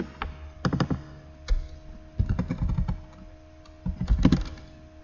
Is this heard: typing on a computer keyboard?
yes